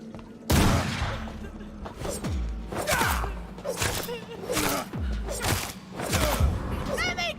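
Repeated gunfire bursts from weapons in the video game Vampyr, a series of sharp loud shots with booming tails spaced about a second apart, mixed with game sound.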